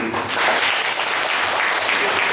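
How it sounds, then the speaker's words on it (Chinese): An audience claps warmly to welcome a teacher at a lecture on power machinery, a dense steady burst of applause from many hands, close and sustained without pause. "好，那我们就以热烈掌声来欢迎那个叶老师。"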